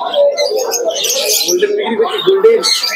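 Pigeons coo amid a busy Krishnanagar pigeon market, with birdcalls and chirps mixed into steady crowd chatter and nearby voices throughout.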